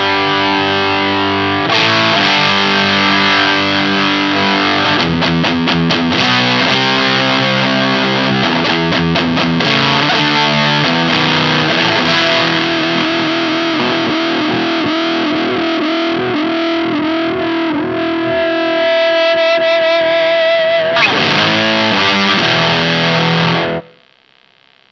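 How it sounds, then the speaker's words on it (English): An electric guitar runs through a Norfleet fuzz pedal with the attack turned down into a 2x12 greenback cabinet, playing a loud, gritty stretch of fuzzy chords and riffs that ends abruptly with no talking. "All right, let's run the gain down, or the attack down, on our Norfleet Fuzz,"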